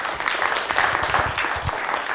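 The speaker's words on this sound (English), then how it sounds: "please give another round of applause to Stephen" A room of attendees at a casual evening talk night applauds a speaker, giving a dense, steady round of clapping that holds fairly loud and even throughout.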